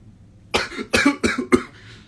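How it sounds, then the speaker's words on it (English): Four short coughs in quick succession, close and fairly loud, with a faint hum in the background. "Sorry, little cough there."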